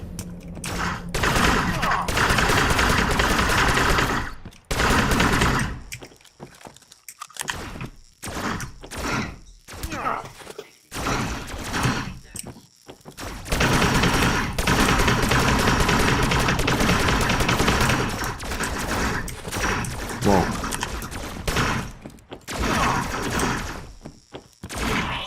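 Rifle gunfire in the video game EverRail, fired at distant enemies aboard a moving train: dense bursts of loud shots in rapid clusters, broken by brief pauses, with a voice talking now and then.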